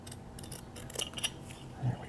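Scissors trimming felt on a 3D printed sock puppet, giving a couple of quick close snips amid soft handling rustle, with no talking.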